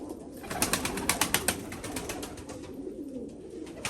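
Pigeons kept by a bird owner coo in a steady, rhythmic series of soft throaty calls, close by, with a faint background hum and no talking.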